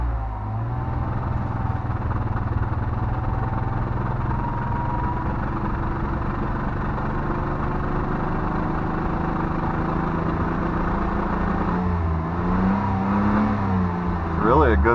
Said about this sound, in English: Really a good sounding engine.